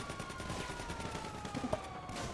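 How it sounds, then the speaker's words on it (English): Rapid gunfire rattles in GTA 5 Online as a dense, steady stream of shots under a faint siren-like tone, fairly quiet and continuous. "Hey, quit shooting me, psycho."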